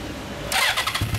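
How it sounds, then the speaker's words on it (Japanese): A 400cc motorcycle engine starts up in a brief burst, the starter cranking before the engine catches with a sharp, loud roar close by. "エンジン音聞かせてもらえますか？"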